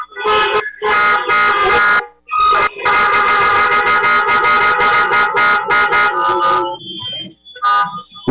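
Many car horns honking together at a drive-in film festival show, loud sustained blasts of overlapping tones with a brief gap, then fading to scattered toots.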